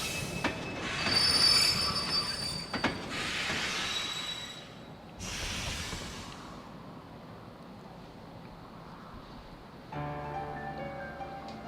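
A train departing in the video game Kingdom Hearts 2.5 HD: sustained rumbling rail noise with high metallic wheel squeals that rise and fall, shifting to a steadier hum at the end, loud and with no voices.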